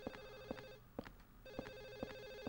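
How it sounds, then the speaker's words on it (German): A telephone rings inside the video game Silent Hill 4 The Room, a quiet electronic ring repeating in two steady bursts with a brief gap between them, faint and with no talking. "Das Telefon klingelt immer noch."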